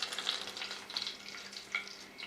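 Cumin and whole coriander seeds crackle and sizzle in hot oil in a home kitchen pan, a close, bright frying hiss with small spitting pops that flare and fade over a couple of seconds.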